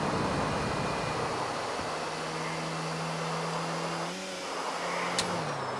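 A car in the video game Grand Theft Auto IV drones with a steady engine tone that dips and shifts pitch as it slides, ending with a brief sharp click, no voices.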